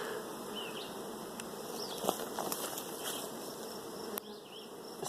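A steady, dense drone of honey bees buzzes around an open hive during a swarm simulation split, with a few individual bees whining closer past the microphone in a quiet outdoor setting.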